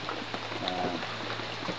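Rain falls in a forest near an old well, a soft continuous patter and hiss at moderate level with a low steady hum underneath.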